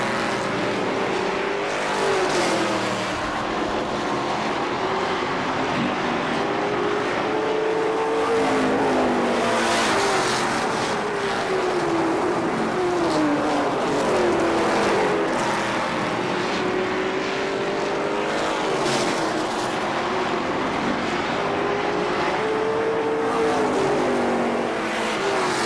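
Stock cars race at KilKare Speedway in Dayton, several engines roaring loudly together with rising and falling pitch as the pack circles, a continuous dense drone throughout.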